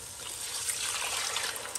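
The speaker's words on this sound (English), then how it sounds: "we need 1 liter of water." Water poured into a pot of roasted butternut squash soup, a steady close trickling and splashing stream lasting about two seconds with no talking.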